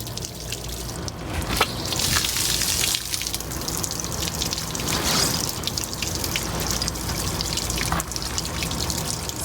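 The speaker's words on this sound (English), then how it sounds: "Just running fresh water through it from the hose" Fresh water from a hose runs through an RV water heater tank during anode rod replacement, a loud, steady gushing rush with splashing and sputtering surges throughout.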